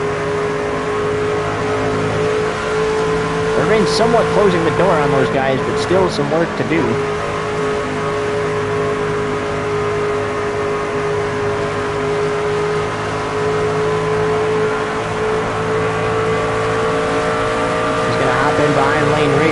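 NASCAR Craftsman Truck Series race trucks roaring around Pocono Raceway, a loud sustained engine drone with shifting pitch as trucks pass, under continuous commentary.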